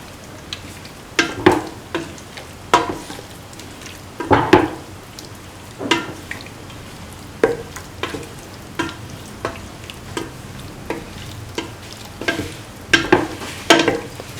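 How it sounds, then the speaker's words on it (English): Garam masala spices are stirred into a beef and bottle gourd stew frying in a pot, with a steady sizzle beneath repeated scraping strokes of the spoon that come in an irregular rhythm, close and fairly loud, with no voices. "Put in 3 spoons of mixture of spices or garam masala. Mix thoroughly."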